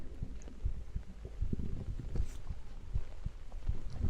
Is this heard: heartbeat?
yes